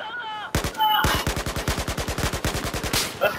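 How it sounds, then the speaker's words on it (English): Gunfire in Battlefield 4 multiplayer: a burst of rapid, evenly spaced automatic shots crackles loudly and close for several seconds after a few brief electronic game tones, with no speech over the firing. "Oh, I just got sniped at."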